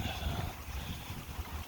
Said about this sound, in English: wind gusts are about 50 kilometers per hour, by the way, today